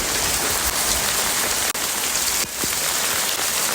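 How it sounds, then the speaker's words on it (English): Heavy hail pelts down in a loud, dense, unbroken roar of impacts that runs the whole time, with no voices. "Oh my god, it's actually hailing so much."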